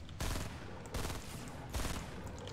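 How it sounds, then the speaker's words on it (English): Loud bursts of rapid automatic gunfire in the video game Fortnite, three dense volleys in quick succession, each sharp and close, with no talking. "Yeah, I was shooting him."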